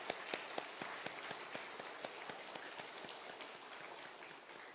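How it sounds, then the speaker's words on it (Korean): A church congregation applauding during a Sunday afternoon service, a steady, rapid patter of many hands clapping together, fairly quiet and even, with no voices over it. "뜨거운 박수로 한번 격려해 주기를 바랍니다"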